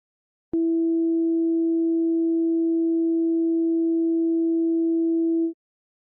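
A synthesized steady tone with a faint added 660 Hz partial at 5% level, a pure, sustained electronic hum starting abruptly and holding for about five seconds before cutting off.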